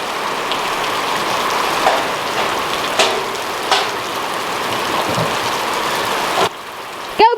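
Steady rain pours down outdoors at an animal feeding spot, a dense, even hiss of drops on surfaces close by, with a few louder splats and a brief voice at the end.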